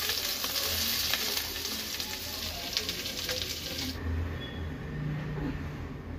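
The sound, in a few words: onion and capsicum frying and stirring in a kadai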